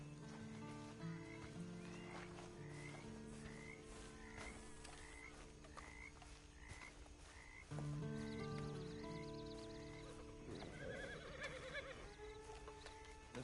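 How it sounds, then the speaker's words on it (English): Horse in the Red Dead Redemption 2 video game: quiet neighing and hoof clops beneath steady frog croaking in an outdoor night ambience, with no talking. "Then you better get on this horse."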